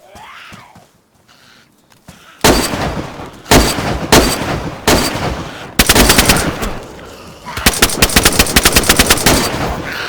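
Gunfire in the video game DayZ, set in Chernarus during a flag battle: after a quiet start, loud close shots crack out in spaced bursts, then a rapid automatic volley runs to the end.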